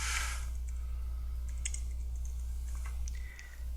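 Typing on a computer keyboard comes through as light, scattered key clicks over a steady low electrical hum, faint and close, with no talk.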